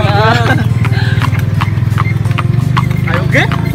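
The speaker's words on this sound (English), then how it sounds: "This is a horse." Hooves of a horse pulling a cart clop in a steady, brisk rhythm on a road in Myanmar, loud and close, with people talking over the hoofbeats throughout.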